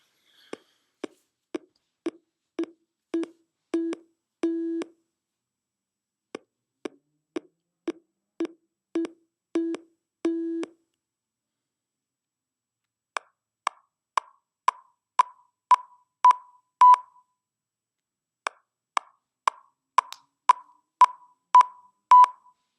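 Tones of increasing duration in a lecture demonstration, heard as short sequences of brief pulses growing from sharp clicks into clear pitched beeps, each sequence presented twice, clean and isolated against silence.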